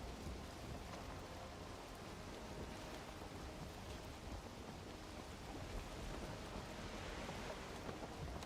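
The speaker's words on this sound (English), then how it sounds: "It wouldn't be sailing without a storm." A thunderstorm with rain at sea while sailing in the video game Valheim: dense, steady hiss of rainfall with low rumbling thunder underneath, continuous and loud throughout with no voices.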